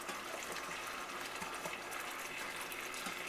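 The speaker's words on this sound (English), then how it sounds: "Now I'm going to add some water. And I'm going to deglaze the pan." Water pours and sizzles in a hot pan to deglaze it while sausage and peppers cook, a steady noisy gush and hiss lasting a few seconds without speech.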